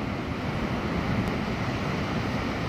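Sea surf at Land's End in Cornwall makes a steady broadband wash, with wind buffeting the microphone throughout the brief stretch.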